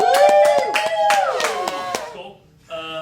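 A live audience claps and cheers to vote for a favorite story, with scattered sharp handclaps mixed with loud whooping voices close by, dying down after about two seconds before another voice briefly rises.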